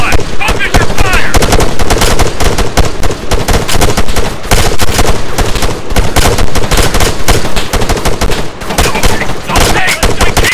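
Sustained, dense automatic gunfire in the military shooter Arma 3, with rapid bursts and overlapping shots from several weapons forming a loud, continuous barrage across the whole stretch.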